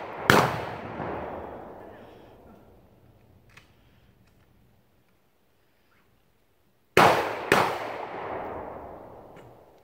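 Loud shotgun blasts at an outdoor 3-gun shooting stage: one sharp shot with a long echoing decay, a pause of silence, then two quick shots in succession, each booming and reverberating.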